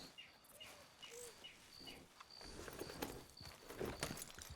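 Faint, quiet hooves clip-clop nearby in the Red Dead Redemption 2 game world, a few soft steps under outdoor ambience of birdsong and crickets, with no talking.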